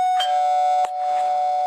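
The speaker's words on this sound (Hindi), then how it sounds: "तो उसके घर की घंटी बजी।" A doorbell rings in a horror audio story set in a Mumbai home at midnight, a steady sustained electronic chime with a couple of faint clicks, loud and alone.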